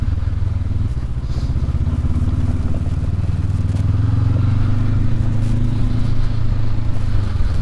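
A 2019 Honda CB500X adventure motorcycle rumbles at low, steady revs while riding over rocks the size of baseballs on low tire pressure, its engine drone loud and close, with faint clatter from the rough ground.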